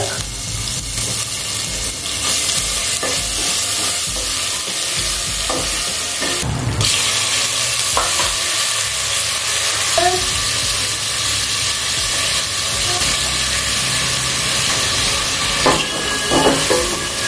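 Panch phoron, cumin, asafoetida and ginger sizzle in hot oil in a pan for Odia dalma, a loud continuous frying crackle with a few clinks and stirring scrapes.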